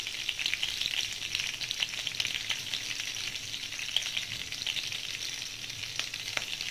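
Red and green chillies frying in hot oil, a steady bright crackling sizzle with small pops scattered through it, close and continuous, with no one talking.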